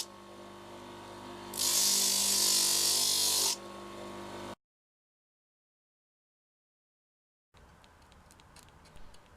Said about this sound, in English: After all 3 bits of wood were glued together, the shape was sanded into existence.